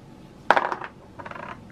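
Dice tossed for a tabletop dice game land with a sharp clattering rattle, a bright burst of tumbling clicks followed by a softer second rattle as they settle.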